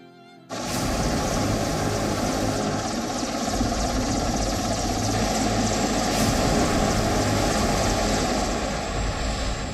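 A Mi-17 V5 military helicopter of the Indian Air Force flies overhead, its rotor and engine roar starting abruptly and holding loud and steady throughout, with a low rhythmic blade thump beneath a broad turbine whine.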